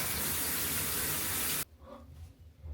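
A shower runs in the bathroom of an ice hotel in Hokkaido, Japan: a loud, steady hiss of spraying water that cuts off abruptly partway through, leaving only faint room sound and small drips, with no talking.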